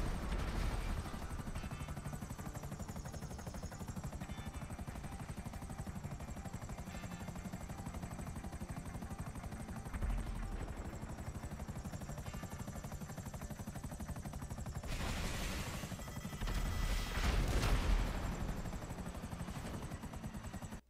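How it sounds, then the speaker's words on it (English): Akula helicopter in GTA Online hovering with a steady rotor drone throughout, then a loud cluster of barrage missile launches and blasts bursting out near the end. "CNY-Payze in an Akula, and he's trying to use the barrage missiles to take out an oppressor Mark II"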